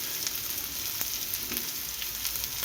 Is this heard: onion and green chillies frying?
yes